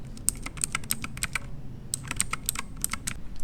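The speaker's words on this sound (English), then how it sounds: "Immediately I pressed the buttons. I tried it, and they were clicky. They sounded clicky." Clicky switches on a MageGee MK-Box mechanical keyboard are typed in quick, irregular bursts of sharp, close clacks with a short pause partway through and no voices.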